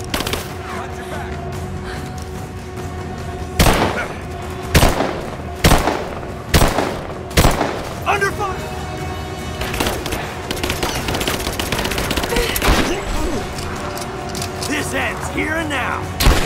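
Gunfire in Rise of the Tomb Raider, a run of sharp shots and bursts over a dense battle ambience, with voices shouting nearby.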